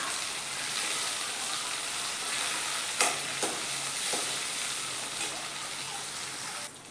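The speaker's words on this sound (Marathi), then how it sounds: "बघा आपला कांदा थोडासा छान तळत आलाय, तोपर्यंत आपण याच्यात टोमॅटो घालून घेऊया" Onion and tomato fry in a pan with a steady close sizzle, broken by a few sharp scrapes and clacks as a utensil stirs them, ending in one more scrape.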